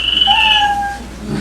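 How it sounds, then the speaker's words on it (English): A brief kitten meow played as a sound effect at a comedy show to signal that a comedian's time is up: one thin, high, wavering cry lasting under a second over quiet room tone. "You know your time's up when you hear the sound of a kitty."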